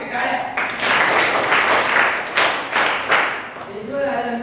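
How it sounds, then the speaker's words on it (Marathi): A group at an acting workshop claps in a loud, continuous burst of applause that fades after a few seconds, with a voice starting to speak as it dies away. "ओके टाळ्या."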